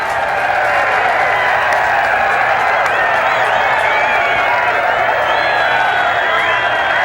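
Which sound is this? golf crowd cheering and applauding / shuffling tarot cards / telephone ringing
golf crowd cheering and applauding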